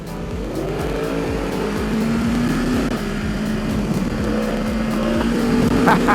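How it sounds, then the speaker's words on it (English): Aprilia Tuono motorcycle accelerating hard through gears on a quick shifter, the engine note rising and dropping in steady steps with faint exhaust pops at each shift, close and loud under continuous wind rush. "Do you hear that thing popping every time you shift?"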